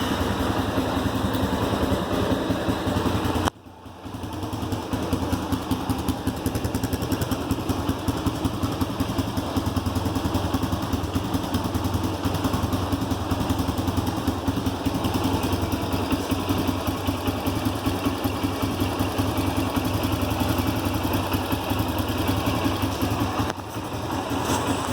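A 2019 Honda CRF230F dirt bike engine runs steadily at a fast idle, a loud, close, continuous buzzing putter with one brief dip near the start, no voices.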